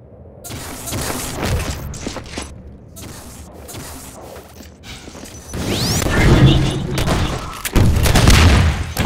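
Rocket explosions and gunfire in a Half-Life 2 Deathmatch match, a string of booming blasts and rattling shots, with heavier, louder explosions packed into the second half.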